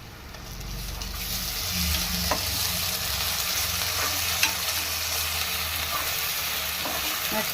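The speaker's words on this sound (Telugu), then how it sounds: "ఆనియన్స్ బాగా వేగే కదండి" Onions frying with ginger garlic paste for a goat head curry, a loud continuous sizzle with occasional stirring scrapes and clinks, close up and without talk.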